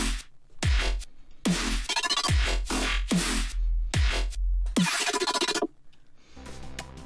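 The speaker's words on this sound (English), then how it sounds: "This is the main patch that we made out of the burp." A riddim-style electronic bass track built from processed burp samples, with heavy wobbling bass stabs punctuated by punchy drum hits in a choppy, rhythmic pattern, loud and close with no talk.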